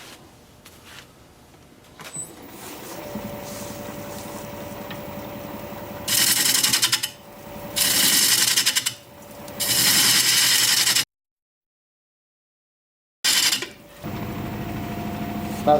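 A wood lathe turns a knotty wooden bowl blank at about 780 RPM, a steady mechanical hum broken by bursts of loud scraping as the tool cuts, then a short silence before cutting resumes.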